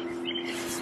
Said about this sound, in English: Nobody's around except the birds, but it's nice to listen to